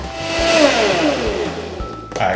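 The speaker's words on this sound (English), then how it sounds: "Let's get this in the blender." A blender whirs loudly, its motor pitch sliding down as it works through turmeric, ginger and pineapple, then a clattering surge near the end.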